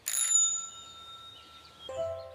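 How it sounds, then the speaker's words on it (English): A single bright bicycle bell ding rings out and lingers, followed by a softer second chime near the end, fairly quiet and alone. "Listen to the loud bell."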